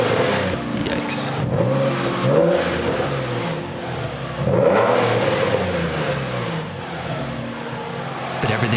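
Nissan 350Z with a newly installed exhaust revving repeatedly in cold, snowy weather, rising and falling engine note in several rhythmic surges, loud and close, with no talking.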